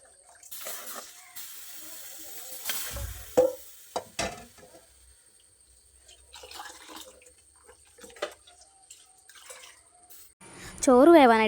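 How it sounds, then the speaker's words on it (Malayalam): Rice being washed in water in a home kitchen while a pot of water for rice gruel boils nearby; soft splashing and swishing with occasional clinks, fairly quiet. "അപ്പോൾ ഇനി അരിയും കൂടെ കഴുകിയെടുത്തു."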